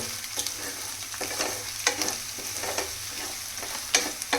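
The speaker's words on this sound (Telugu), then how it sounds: "అల్లం వెల్లుల్లిపాయ పేస్ట్ కూడా ఫ్రై అయిపోయింది" Onion, ginger, garlic paste and green chilli frying in a pan, a busy close sizzle with repeated stirring scrapes and bright metallic clinks of a spoon, over a low steady hum.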